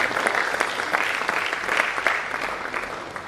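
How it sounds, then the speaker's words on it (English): A conference audience at a medical college plenary session claps steadily and fairly loudly, a dense, even round of applause that holds for the whole stretch without pause. "A round of applause for him."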